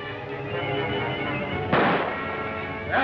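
Gunfire in a 1937 adventure film serial: a single loud, sharp shot cuts through a steady background of orchestral score and noise, followed by a second burst near the end.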